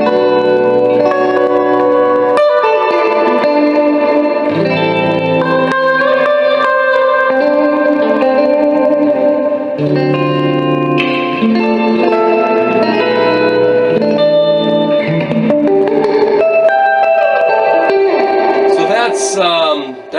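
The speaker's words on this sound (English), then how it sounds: "That's the hall reverb." Electric guitar played through the hall reverb setting of an Orange Crush amp, sustained chords and notes blooming into a wide, fat wash that trails off, steady and loud throughout with no talking.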